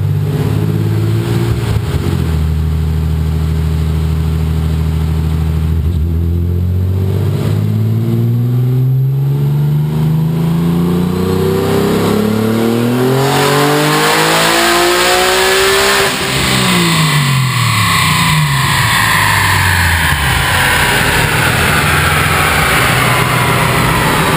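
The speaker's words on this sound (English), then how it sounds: "it's just about melted the tire on the dyno" A tuned car on a dyno revs hard for a long stretch, its engine note climbing steadily, dropping back, and then winding up again, loud and continuous throughout.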